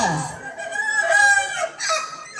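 A chicken clucks and squawks close by, a loud, drawn-out run of rising, wavering calls with a short pause before a final burst.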